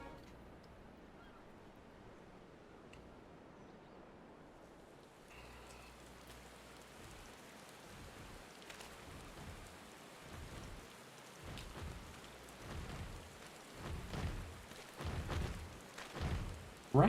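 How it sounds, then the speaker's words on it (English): Steady rain and rolling thunder in the video game Final Fantasy XIV, quiet and continuous, with the rain swelling and thunder rumbling more heavily toward the end. "Rain."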